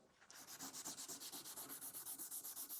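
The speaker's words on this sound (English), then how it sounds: "So something like some WD-40 and a Scotch-Brite pad. Just going to help me clean this up." A Scotch-Brite pad with WD-40 scrubs back and forth in quick, even strokes, about twenty close rasping passes in a steady rhythm, with no voices.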